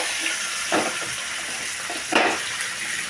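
Ginger, green chillies, pepper, coriander and curry leaves sizzle in hot oil for pongal in a pressure cooker, a steady close frying hiss with a couple of stirring scrapes.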